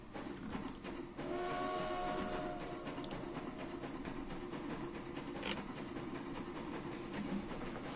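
A train rolls along an electrified line in the Transport Fever video game, a steady rumbling run with a brief tonal whistle-like hoot near the start and faint clicks later.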